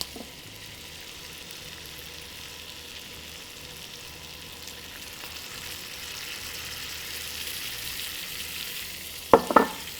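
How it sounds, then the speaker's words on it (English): Shrimp simmering in scampi sauce in an enameled cast iron pan gives a steady, moderate sizzle and bubbling throughout, with a couple of sharp utensil clinks near the end. "Let the shrimp cook a little bit in the sauce."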